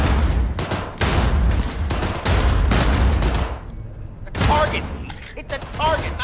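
Rapid gunfire at shooting-range targets in the video game Cyberpunk 2077, with bursts of loud, close shots through the first few seconds, a brief pause, then more scattered shots while a person talks.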